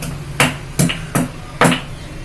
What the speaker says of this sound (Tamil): இந்த இஞ்சி ஒரு இன்ச்சு அளவு வச்சிருக்கேன், அதை தட்டி போட்டுருவேன்.